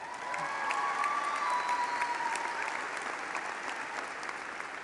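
Steady applause from a crowd at a university convocation address, continuous and fairly loud throughout with no pauses.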